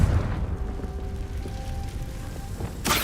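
A Confringo blasting spell in Hogwarts Legacy sets off a deep, rumbling explosion that fills the clip with low-end roar and sustained tones, ending in a sharp bright burst near the close; no talking.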